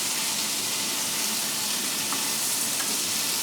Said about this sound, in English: just let it fry a little bit